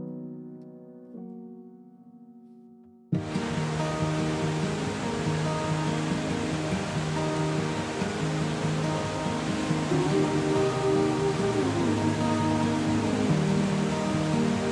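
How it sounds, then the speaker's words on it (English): A waterfall cascades down from the Queulat Hanging Glacier on Chile's Carretera Austral. After a quiet start, a steady broad rush of falling water comes in abruptly and stays constant, with music playing over it. "Even more beautiful than the glacier was the waterfall cascading down from it."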